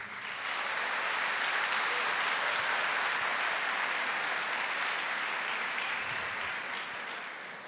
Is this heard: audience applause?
yes